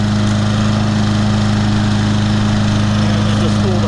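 A Troy-Bilt TB200 self-propelled lawn mower with a 625EX Series engine runs steadily up close, a loud, constant droning hum with no break.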